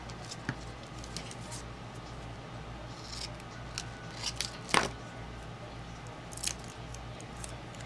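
Scissors trimming material for a handmade top hat, a few faint, sparse snips and light handling clicks scattered over quiet room tone, close but soft.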